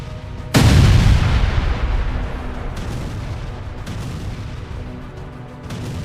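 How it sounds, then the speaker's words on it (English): An artillery strike hits Russian vehicles in a forest: one heavy, sudden blast booms loud and deep, then rumbles and slowly fades, followed by several fainter, distant thuds of further impacts. "prompting Ukrainian forces to launch an artillery strike that neutralized the enemy forces"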